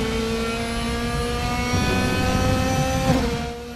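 A race car in the RaceRoom racing game accelerates hard with a loud, sustained engine whine that climbs in pitch through the gears, close and steady, with a brief shift near the end.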